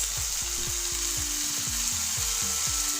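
Soy sauce sizzles in a hot pan with a loud, constant hiss close by and soft low bubbling pops recurring throughout, with no voices.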